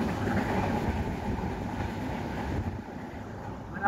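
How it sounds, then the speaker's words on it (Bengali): A passenger train runs with a steady low rumble and rattling wheel noise, easing slightly toward the end. "এত তাড়াতাড়ি কোনোদিন যায় না ট্রেন, এত তাড়াতাড়ি"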